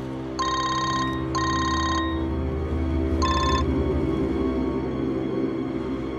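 An electronic telephone bell rings in two quick bursts and then a third shorter burst, loud and close, over a steady low background hum with no talking.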